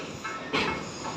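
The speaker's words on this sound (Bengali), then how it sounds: "এই দেখো ট্রেন যাচ্ছে" A train passing by nearby, a sustained rumbling hiss of wheels and carriages that swells partway through.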